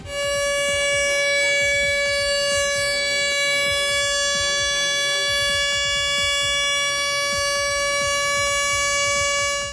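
A loud, sustained truck air horn blares steadily for the whole stretch, with a deep rumbling engine beneath it.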